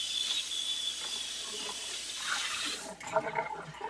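Water runs and drains while a coffee canister is rinsed in a sink, a steady close hiss that breaks off near the end into scattered drips and clinks.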